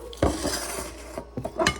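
Knife cutting through sliced onions on a plate: a sharp clack of blade on plate, then scraping, several quick taps and a final clatter, close and fairly loud, with no talking.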